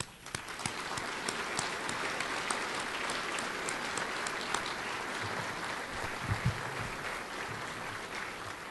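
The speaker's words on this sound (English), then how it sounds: "I want to give you my own round of applause." Steady applause from a sizeable audience at a graduation dinner, a continuous wash of clapping that holds at an even level for several seconds.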